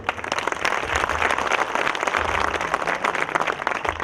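An audience at a party workers' gathering applauds to welcome a guest, with dense, steady clapping that fills the whole stretch at a constant level.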